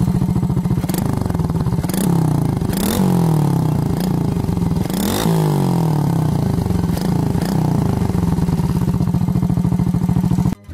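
A small pit bike with a straight pipe exhaust revs hard again and again, rising and falling in sharp blips over a loud, raw, rattly idle, close to the listener and with no talk.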